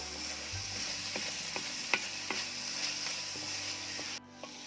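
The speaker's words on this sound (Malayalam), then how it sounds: "നന്നായിട്ടൊന്ന് ഇളക്കി കൊടുക്കാം. അടിയിൽ പിടിക്കാതെ ഇളക്കിക്കൊണ്ടേയിരിക്കണം നമ്മൾ." Beef liver fry being stirred in an uruli over a wood fire, with a steady sizzle and repeated sharp scrapes and clinks of the spoon against the pan, close and alone.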